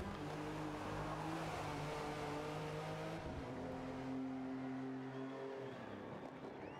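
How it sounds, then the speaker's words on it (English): Porsche 911 Strassen version engine in the Forza Motorsport racing game, a steady loud drone with rising and shifting gear tones through acceleration, continuous and close throughout. "We're doing it in the Porsche 911 Strassen version."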